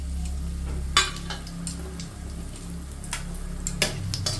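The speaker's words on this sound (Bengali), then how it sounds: "যে মাছ ভেজে তুলে নিয়েছি সেই তেলেই আমি দিয়ে দেব ফোড়নে গোটা এলাচ, দারচিনি, লবঙ্গ, তেজপাতা" Whole cardamom, cinnamon, cloves, bay leaves and dried chillies sizzling in hot oil left over from frying fish, a continuous close crackle with occasional sharp spits and ticks, no voices.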